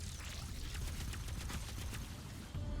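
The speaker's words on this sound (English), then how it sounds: "Yo, fast firing." Rapid gunfire from the Destiny 2 video game, heard as a fast, steady stream of shots under a dense, fairly quiet wash of game noise with no talking.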